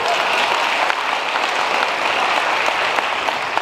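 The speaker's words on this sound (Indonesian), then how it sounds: "tepuk tangan luar biasa" An audience at a motivational business seminar breaks into loud, sustained applause, a thick unbroken wash of clapping lasting several seconds with no speech.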